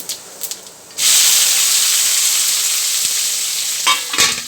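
Okra hits hot oil with mustard seeds and sets off a loud, steady sizzle that starts suddenly after a second of quieter clinks and runs on, with a few utensil taps toward the end.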